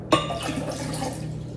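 Plain water poured into a blender, a sudden splash followed by a short gurgling, ringing trickle, close and fairly quiet.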